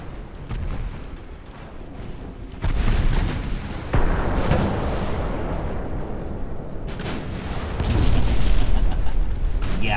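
Rumbling salvos of naval gunfire from warships in a naval battle game, heavy booms layered over a constant roar, with a louder burst of shots near the end.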